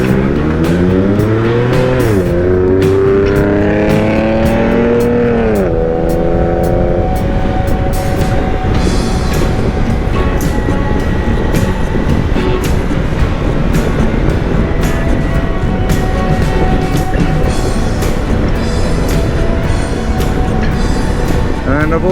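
Steady, loud broadband wind roar from riding a Kawasaki Versys x300 motorcycle with the helmet visor partly open on a warm day in traffic, with engine tone rising and falling early on, continuous throughout.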